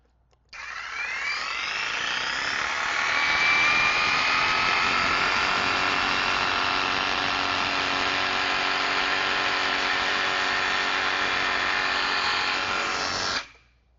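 A TapeTech insulation cutting tool with its base plate set at an angle slices through an insulation batt, giving a steady electric whine that starts abruptly, holds evenly for about thirteen seconds, then cuts off.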